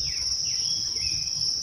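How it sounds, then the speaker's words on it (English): Crickets chirping in Karura Forest, Nairobi, a steady high-pitched trill running unbroken and fairly close, with soft low rustling underneath and no voices. "Those are crickets."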